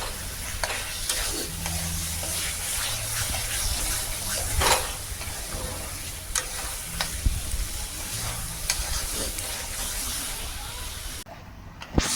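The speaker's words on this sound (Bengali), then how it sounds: "টমেটো দেওয়ার পর মালটা পুরো কষিয়ে নিলাম" Bhetki fish-bone curry with tomato is stir-fried in oil that has begun to separate: a close, steady sizzle with frequent scraping stirs, easing into brief quiet at the very end.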